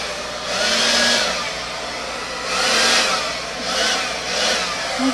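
A hair dryer set on low blows steadily across wet metallic paint during a Dutch pour, a close, continuous airy rush that swells and eases several times as it is moved.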